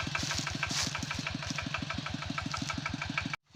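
A vehicle engine idles before riding off on a dangerous trail, making a regular, rapid, loud putter close by that cuts out abruptly near the end.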